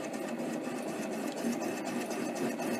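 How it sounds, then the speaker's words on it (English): Mini lathe taking a light turning cut on an off-center workpiece with chuck runout, a steady close motor whine with a faint pulsing rhythm throughout. "I'll just take a light turning cut here"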